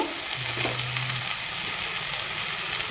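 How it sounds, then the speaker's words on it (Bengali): Spice paste sizzles and fries in hot oil in a pan while cooking a Bengali chitol fish jhal, a steady, close, continuous crackling hiss with a brief low hum early on. "মশলাটাকে আমি ভালো করে আমি কষিয়ে নিব"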